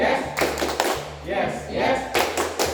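Classroom students perform the 'tepuk semangat' rhythmic clap in a few quick bursts of claps, close and moderately loud, with a teacher's voice talking over and between them.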